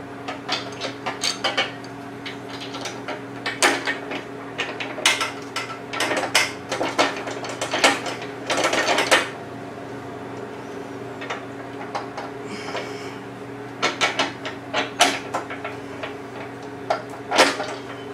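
Bursts of metallic ratcheting clicks come from a ratchet torquing a bolt while a Harley-Davidson detachable Tour-Pak conversion kit is installed, close and intermittent, with tool clinks between them.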